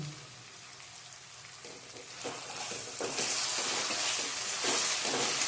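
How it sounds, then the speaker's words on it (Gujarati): Tomatoes frying in a pan make a soft sizzle that grows louder, with occasional spatula scrapes and light crackles, close and without talk. "હવે આપણે થોડીક વાર ટમેટા તળવા દઈશું."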